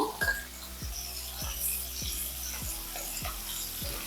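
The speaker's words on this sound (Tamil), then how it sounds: "பாருங்கள் வெங்காயம் பூண்டு எல்லாமே நல்லா வதக்கியாச்சு" Onion and garlic sauté in a pan for hotel-style tiffin sambar, a steady hiss of frying beneath rhythmic, evenly spaced scrapes of a spatula stirring about every half second.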